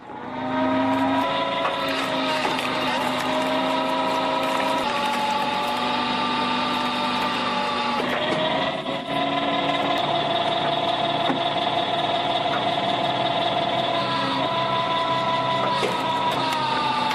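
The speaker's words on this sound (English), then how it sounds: "This 30-ton horizontal splitter is a real beast, adjustable, stable, and built for serious forestry work." A homemade 30-ton horizontal hydraulic log splitter built for forestry work runs with a steady, loud mechanical drone and whine that holds constant throughout, shifting pitch briefly midway with no voices.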